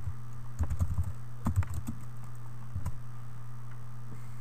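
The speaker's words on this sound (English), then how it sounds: "You just type it up, type it in at the top." Quick irregular clicks of typing on a computer keyboard, light keystrokes in short clusters over a constant background hum, fairly close and moderately quiet.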